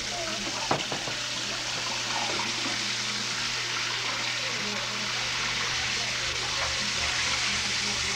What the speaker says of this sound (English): Do you like to wash dishes?